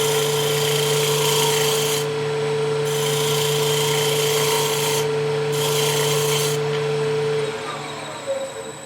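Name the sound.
woodturning lathe turning end grain goblet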